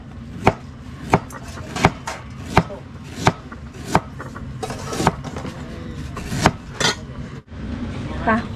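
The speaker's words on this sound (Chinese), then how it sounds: "哥给我在切肉呢" A knife chops cured pork on a cutting board in close, loud, evenly spaced strikes, roughly one every three-quarters of a second, with faint kitchen clatter between blows.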